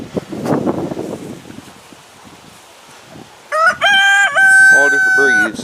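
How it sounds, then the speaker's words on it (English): Farm chickens with a rooster: soft clucking and rustling at first, then a loud, close rooster crow with several sustained harmonic phrases over the final two seconds. "here's some chickens."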